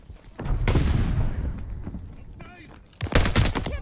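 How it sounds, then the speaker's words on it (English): Heavy gunfire in a Call of Duty Vanguard battle, a dense, continuous roar of shots with a sharper loud burst near the end, heard under a game voice speaking. "Fire is so heavy."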